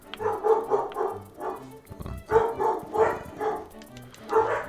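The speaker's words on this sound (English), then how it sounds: "I don't even know what she's barking at." A dog barks in repeated bursts, a steady run of sharp, fairly close barks spread evenly through the stretch with no talk over them.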